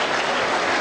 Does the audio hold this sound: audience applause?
yes